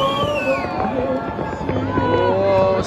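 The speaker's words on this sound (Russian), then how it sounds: "Смотрите, везде салюты." New Year's fireworks in Sochi pop and crackle repeatedly in the distance amid whistling streaks, while a large crowd shouts and talks nearby.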